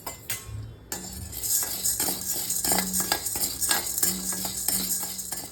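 Chana dal is dry roasted in a pan, with a spoon scraping and stirring in repeated metallic strokes and a light rattle of lentils, close and fairly busy with no talking.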